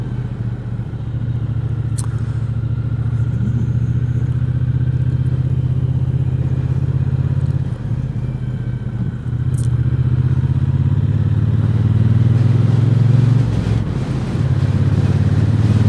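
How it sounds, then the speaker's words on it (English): A Triumph T120 motorcycle engine runs steadily while riding on the road, a loud continuous low rumble lasting throughout with faint clatter. "I'm so glad I bought this motorbike, this T120."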